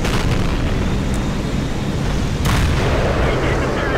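Tank main gun firing in World of Tanks gameplay, a loud sustained booming roar with a sharp second blast partway through, dense and close.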